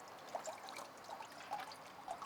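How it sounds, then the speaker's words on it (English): Water trickling and draining out of a clogged plankton sampling mesh as it is moved around, a steady light dribble with small splashy surges, no voices. "move it around so we can get all the water out of it"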